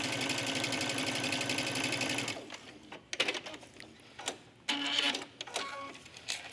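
A domestic sewing machine runs a steady, rapid triple stitch along a lined trench coat belt loop for about two seconds, then stops, leaving scattered handling clicks and small mechanical knocks.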